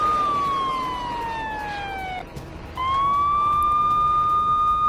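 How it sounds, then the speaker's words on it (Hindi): An air raid siren wails over Kyiv during attacks, a loud steady tone that slides slowly down, drops out briefly, then returns and holds high and even, dominating the scene. "लगातार हो रहे हमलों के बीच कीव में बजने लगे सायरन"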